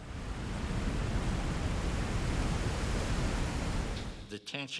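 A loud, steady roar of rushing water fills the clip, broad and constant, cutting off abruptly near the end.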